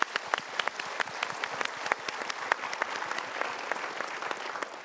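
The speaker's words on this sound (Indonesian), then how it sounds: "Kita berikan tepuk tangan dulu." Studio audience applause at a talk show, a steady, moderately distant patter of many hands clapping for several seconds, with no voices over it.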